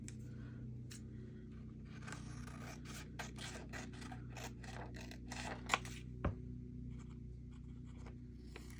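Scissors trim a black-and-white advertisement page for junk journal tags, giving a quiet series of brief, scratchy paper snips and rustles up close, with no talking.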